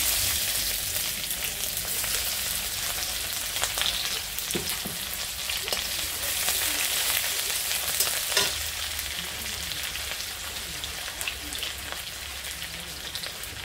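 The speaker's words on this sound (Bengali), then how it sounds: "আমি ভাত কলা পুরের জন্য মশলাটাকে এখন ভেজে নেব। দিয়ে দিলাম কুচানো পেঁয়াজ" Chopped onion and spices frying in hot oil for a plantain filling, a steady close sizzle with occasional stirring scrapes and crackles throughout, no talk.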